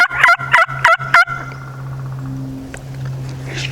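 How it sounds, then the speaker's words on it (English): A wild turkey gobbler in Florida gobbles in four quick loud bursts, close and clear over a quiet outdoor background with a faint steady hum. "Giant gobbler, I see him right now."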